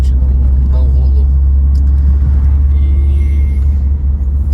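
A Fiat Tempra on the road, its engine giving a loud, steady low rumble from inside the cabin, with a voice speaking over it throughout.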